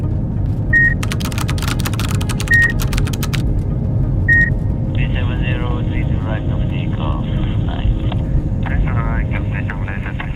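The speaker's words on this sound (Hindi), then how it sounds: "फ्लाइट टेक ऑफ करती है" Passenger airliner at takeoff thrust, a steady loud broad jet-engine roar and rumble filling the clip, with beeping tones early on and voices speaking over it in the second half.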